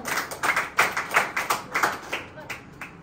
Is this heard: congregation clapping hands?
yes